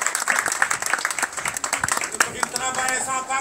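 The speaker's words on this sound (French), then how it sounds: "sous un tonnerre d'applaudissements" Applause fills the room, a dense steady patter of many hands clapping that keeps going throughout, with a voice speaking underneath.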